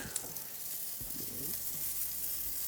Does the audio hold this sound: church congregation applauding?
no